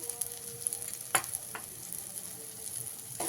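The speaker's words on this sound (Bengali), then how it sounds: "মশলাটাকে ভালো করে ভেজে নেবো হালকা একটু জল দিয়ে নেবো যাতে মশলাটা না পুড়ে যায়" Spice paste with salt and turmeric fries in oil in a pan for a bhola fish tel jhal curry. A soft, steady sizzle is heard up close, broken by a few brief stirring scrapes.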